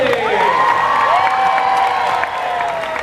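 A studio audience at a live Fear Factor show cheers and applauds loudly for Scott, David, James and Ashley, with whoops and high shouts rising over continuous clapping for the whole stretch.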